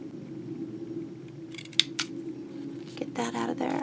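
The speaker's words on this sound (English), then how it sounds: "Let's cut out that little square." Scissors snipping a small square out of paper: a few short, crisp cuts close by after a quiet start, followed by a quick burst of snipping and rustle over low background hum.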